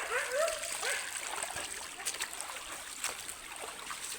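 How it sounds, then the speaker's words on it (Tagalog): Flood water rushes and splashes steadily near a rural poultry farm after a landslide, a continuous broadband wash with brief voices at the start. "Baha. Ang tubig."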